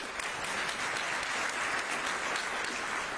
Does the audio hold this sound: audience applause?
yes